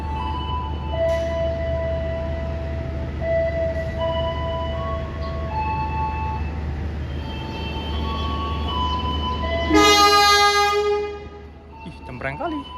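The locomotive-hauled KA Prameks train near Yogyakarta station gives a steady low rumble, then a loud, close horn blast sounds about two-thirds of the way through before fading.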